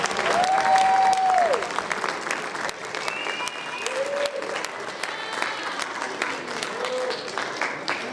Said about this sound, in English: Please join me in another round of applause for our students.